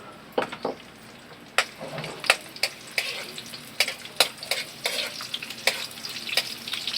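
Garlic and onion sauté in a pan over gentle heat, a steady low sizzle punctuated by a string of sharp, close scraping clicks from a utensil stirring against the pan at irregular intervals, with no talking.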